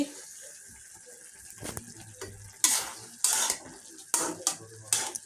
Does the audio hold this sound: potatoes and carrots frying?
yes